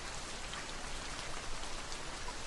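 Rain falls steadily outside an open window, a dense soft patter of raindrops heard quietly and evenly throughout with no voices.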